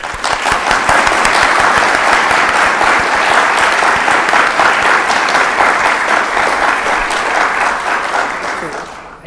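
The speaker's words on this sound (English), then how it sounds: "So please join me in welcoming Ambassador Sullivan." Sustained, dense applause from an audience welcoming Ambassador John Sullivan, loud and steady for several seconds before tapering off.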